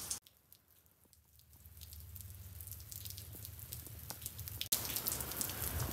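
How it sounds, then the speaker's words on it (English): Freezing rain falling during a winter ice storm in Louisiana, a steady patter of drops striking a porch and iced surfaces close by, with dripping that grows slightly louder and denser toward the end; no one speaks. "we've got freezing rain"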